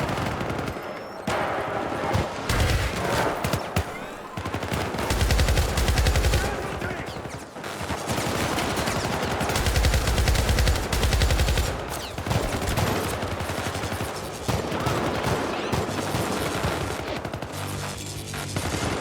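Rapid automatic gunfire from the video game Syndicate (2012) crackles in dense bursts with brief pauses, loud and close, firefight noise filling most of the stretch.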